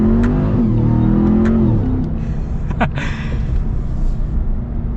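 A 2022 Ram TRX pickup engine revs up loudly, its pitch climbing and then dropping as it accelerates close by, with a steady low rumble throughout.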